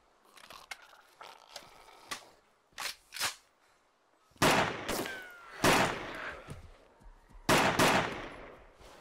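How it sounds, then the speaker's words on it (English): An AK rifle firing in the game DayZ Overpoch: scattered single shots and short bursts at first, then louder, sharper volleys of rapid fire with echoing tails, close and with no talking. "Let's actually get the AK out for killing zombies."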